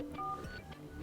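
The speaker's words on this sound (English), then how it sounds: "go to keypad and enter a secret code which is *##737" Keypad dialing tones sound from a Sony Xperia 5 as a code is entered, with a few short, distinct beeps in quick succession, close and clear.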